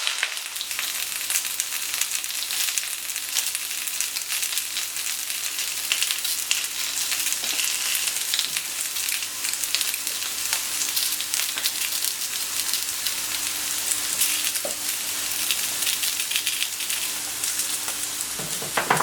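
Broccoli sizzles in a pan over low heat, a steady close crackling fry with occasional stirring scrapes and no talk throughout.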